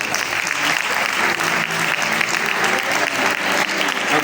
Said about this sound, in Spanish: Dile un aplauso fuerte a Cristo.